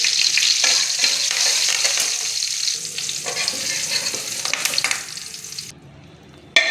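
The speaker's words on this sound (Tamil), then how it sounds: "கடுகு பொரிஞ்சதும் கருவேப்பிலை சேர்த்து லேசாக வதங்கினதும்" Mustard seeds crackle and sputter in hot oil while making brinjal soji, a dense continuous sizzle with sharp pops, loud and close, briefly dropping off near the end.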